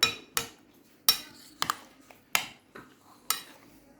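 A spoon knocking against a bowl while mixing Lab e Shireen, a milky Eid dessert, in a series of sharp, close clinks and taps at irregular intervals with quiet pauses between.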